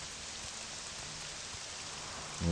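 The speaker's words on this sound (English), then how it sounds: "I hate the rain." Steady rain pours down in a video game, an even wash of hiss and patter that holds unchanged from start to end, moderate in level and with no voices.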